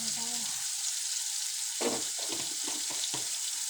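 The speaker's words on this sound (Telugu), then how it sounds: "ఎగ్ రైస్ రెడీ అవుతుంది. కలుపుతాము." Egg rice sizzles in a pan as it is stirred, a faint steady frying hiss broken by a few soft scraping strokes near the end.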